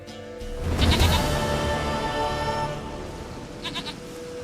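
A goat in The Witcher 3 gives one loud, wavering bleat close by, followed by a shorter, fainter bleat a few seconds later.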